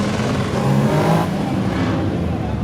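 A drift car at a Florida drift competition roars loudly and steadily with harsh exhaust, the engine note holding high before easing slightly, with crowd and track noise underneath.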